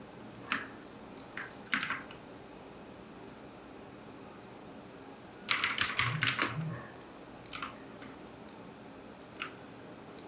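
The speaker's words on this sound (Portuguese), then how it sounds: "Vamos digitar nosso título principal." Typing on a computer keyboard in scattered bursts, light clicking taps separated by pauses, one longer run of fast keystrokes midway, close and fairly quiet.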